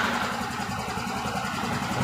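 Yamaha Mio Soul 125 scooter engine idling steadily just after a push-button start, a close, even mechanical hum with a light tappety texture and no voices.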